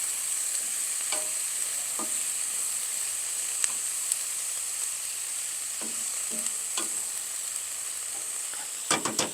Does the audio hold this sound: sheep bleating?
no